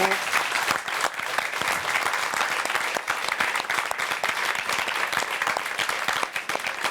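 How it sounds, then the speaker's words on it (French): Steady, dense applause from an audience at a foundation gathering in Corsica honoring an association, continuous clapping throughout at moderate loudness with no pauses. "Je crois qu'on peut les applaudir aussi"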